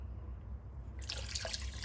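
Water pours from a tap for cooking, starting abruptly partway through as a bright, steady splashing rush after a faint quiet lead-in.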